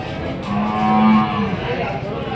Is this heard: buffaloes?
yes